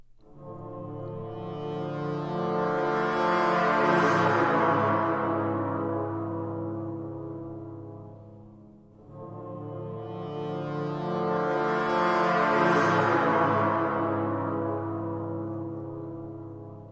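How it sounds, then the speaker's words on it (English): Brass sustains a deep chord that swells louder and fades, then a second long, rich swell follows; no voices. "I believe this is brass"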